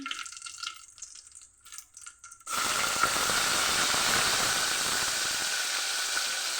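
Prawns dropped into hot oil for a bamboo shoot curry: after a quieter opening, a sudden loud, close hiss and sizzle bursts in and holds steady and continuous to the end.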